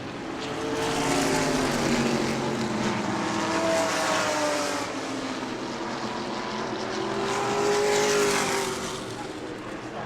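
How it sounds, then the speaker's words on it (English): Race cars of the Florida Southern Ground Pounders series at New Smyrna roar around the track, engine notes rising and falling as the pack sweeps past twice, loud at each pass and fading between. "Jody Modine getting tail happy off the corner"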